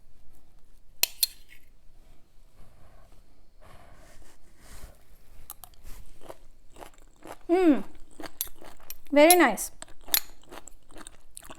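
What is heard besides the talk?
crunchy okra being chewed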